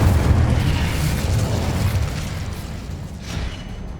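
In Hogwarts Legacy, the Incendio fire spell lands as a heavy, booming blast of flame inside a dense, low rumble that slowly dies away, loud and close, with no speech.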